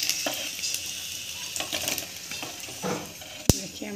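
Banana pieces frying in hot oil in a pan, a continuous soft sizzle with scattered stirring scrapes and one sharp metallic knock near the end, close by.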